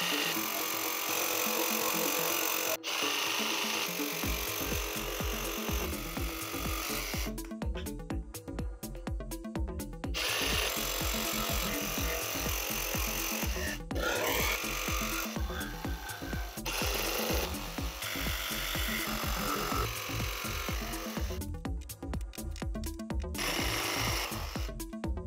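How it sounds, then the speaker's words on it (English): A jigsaw cuts wooden templates for a crosscut sled with a loud, rapid buzzing rasp. The blade sound stops briefly several times and then starts again, with no talking. "I'm just going to quickly run it off with the old jigsaw here"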